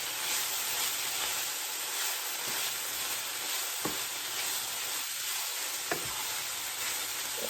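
Food sizzles and fries steadily in a pan while being stirred, a continuous close hiss with a few soft scraping knocks of the utensil.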